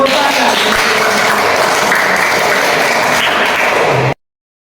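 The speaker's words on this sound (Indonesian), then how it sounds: "Oke, tepuk tangan untuk kalian semua." A group in a classroom session claps together, producing loud, dense, continuous applause that holds steady for about four seconds and then cuts off sharply.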